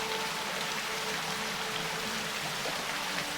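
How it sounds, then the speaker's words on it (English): Steady rushing water tumbling over rocks, a continuous dense splashing murmur with no pauses and no voices. "Who doesn't like the sound of water over rocks?"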